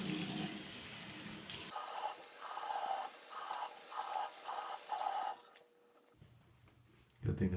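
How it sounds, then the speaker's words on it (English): A faucet runs steadily while a face is rinsed at a sink, the close stream broken by rhythmic splashing pulses from cupped hands, before the water cuts off and a voice briefly begins. "Alright, now she's rinsing off."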